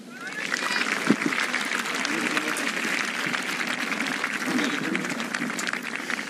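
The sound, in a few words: golf crowd cheering for Rickie Fowler's par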